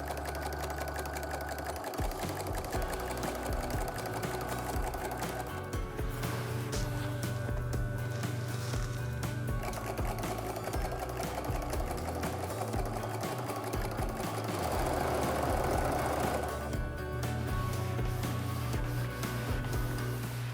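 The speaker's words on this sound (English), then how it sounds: "I have finished sewing the top of my first placemat" Sewing machine stitching a quilt-as-you-go placemat top, a continuous close mechanical hum and rapid needle chatter running steadily throughout without pause, with no talk.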